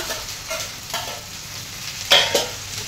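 Fresh okra dropped into a hot pan of oil on a home kitchen stove, giving a steady soft sizzle with a few stirring scrapes and one sharper hiss burst near the end.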